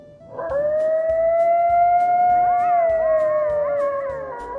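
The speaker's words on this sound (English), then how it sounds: "Coyotes make a yipping sound." A coyote gives one long, drawn-out howl that rises, holds steady, then wavers and bends toward the end, loud and close over a quiet background.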